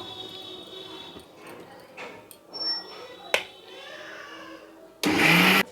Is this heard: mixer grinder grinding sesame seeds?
yes